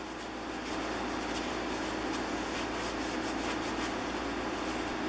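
A cloth rubs steadily across a hardwood plane tote to wipe off dried wax, a soft continuous scrubbing hiss that stays close and even with no talking.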